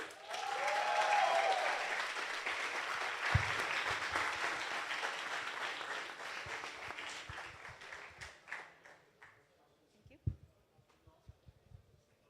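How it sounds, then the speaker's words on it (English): A crowd at a business plan presentation finals applauds loudly, the clapping holding steady for several seconds before thinning out into a few scattered claps and fading away. "Big applause for them."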